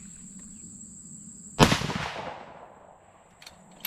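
A single loud rifle shot from a 6 Dasha rifle fired without a muzzle brake during a seating depth test, a sharp crack followed by a rolling outdoor echo that fades over about a second, with insects buzzing steadily in the background.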